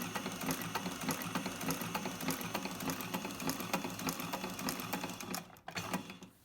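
Sewing machine stitching the calf seam of long boots, a fast, steady mechanical chatter of needle strokes running continuously before slowing and stopping with a short thump near the end.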